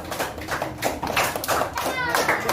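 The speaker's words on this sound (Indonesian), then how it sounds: "Jadi mana tepuk tangan untuk kelompok 4?" Classroom applause for a student discussion group, a quick patter of many small hands clapping close by, mixed with children's voices and chatter throughout.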